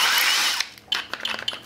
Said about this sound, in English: let's drill something